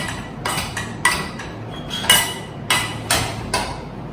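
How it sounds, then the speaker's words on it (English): A utensil mashes hot vegetables in a pan for a potato purée, giving about seven or eight sharp metallic knocks and scrapes at an uneven pace, fairly loud and close, with no speech. "you have to mince the whole thing nicely. Mash it up completely."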